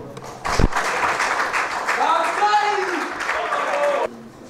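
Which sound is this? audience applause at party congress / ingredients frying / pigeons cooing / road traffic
audience applause at party congress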